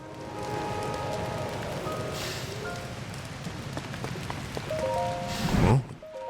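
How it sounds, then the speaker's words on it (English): Rain in the video game Zelda Tears of the Kingdom, a continuous pattering hiss mixed with soft game music tones and scattered clicks, rising into a louder burst near the end. "the rain's still coming through"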